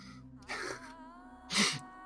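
Two short, breathy bursts about a second apart, the second louder and sharper, like a sneeze after a brief catch of breath.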